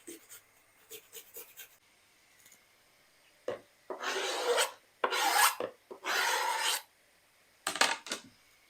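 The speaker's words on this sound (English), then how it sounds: "But I like to grate my garlic." Garlic being grated on a hand grater in a home kitchen, a few quick light scrapes followed by several longer, louder rasping strokes in bursts, close and alone without talk.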